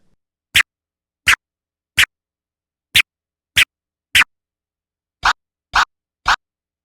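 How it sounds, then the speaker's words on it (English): Turntable stab scratches by a DJ, nine sharp, clean, isolated bursts spaced evenly in near silence, each short and bright with a quick crossfader cut. "The next scratch we're going to go over is the stab scratch"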